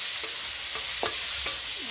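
Beef stir frying in a pan with golden-browned garlic for a broccoli dish, a steady loud sizzle with a few soft scraping stirs breaking through.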